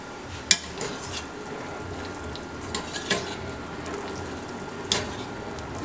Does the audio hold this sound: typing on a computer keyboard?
no